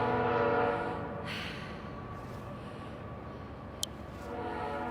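A train cruising along a river rumbles with a sustained horn-like tone over the steady clatter, moderately distant, with a short sharp click partway through.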